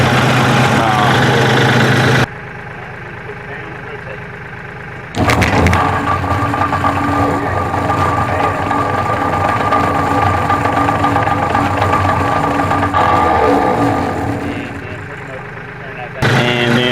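A tractor engine idles with a steady, heavy rumble, then a sudden louder mechanical clatter kicks in as the PTO engages and runs continuously before easing off.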